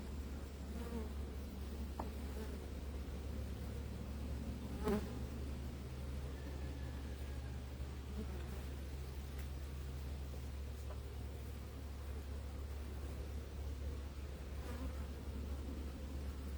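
Agitated honeybees at an open hive, a dense steady buzzing drone throughout, close and fairly quiet, with faint brief handling noises.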